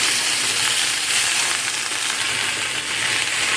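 Pumpkin and greens frying in a pan while being stirred and mixed, a steady close sizzle with faint scraping throughout, no voices.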